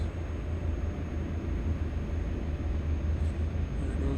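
Heavy truck engine laboring up steep hills, a steady low rumbling drone with constant road and wind noise, close and continuous with no voices.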